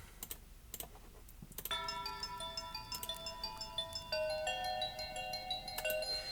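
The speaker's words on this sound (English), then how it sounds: "I also had these bells here" Bright, ringing bell tones play in a melodic pattern within a music track, layered chimes with clear sustained pitches following a few sharp clicks at the start.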